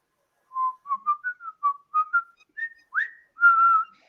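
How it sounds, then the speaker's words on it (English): A person whistles a short melodic phrase of clipped notes that slide upward, ending on a longer held tone, close and alone. "that's whistling"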